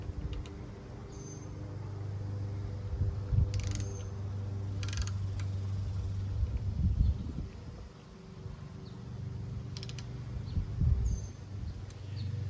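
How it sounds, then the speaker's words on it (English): Pinch bolts being loosened on the fork trees of a Milwaukee 8 Harley-Davidson Softail Street Bob FXBB, with a few sharp metallic clicks and wrench cracks standing out over a low garage hum. "I'm going to crack these pinch bolts on the trees"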